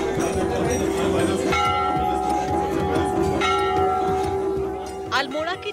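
Bells ringing at the Chitai Golu Devta temple in Almora, where countless bells hang in the temple grounds: sustained metallic ringing and overlapping clangs, loud and close, with crowd voices mixed underneath.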